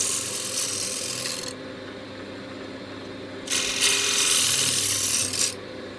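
Wood turns on a lathe as a tool rounds off a corner of a cheese board blank, two bursts of harsh scraping rasp over a steady motor hum, separated by a short quieter pause.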